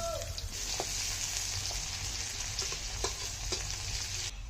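Chopped onion fries in hot white cooking oil with a dried red chilli and a bay leaf, making a loud, dense, continuous sizzle with a few faint stirring knocks.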